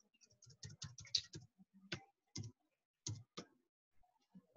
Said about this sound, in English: I can start typing a customer name, or I think I even type a salesperson, or even a project number.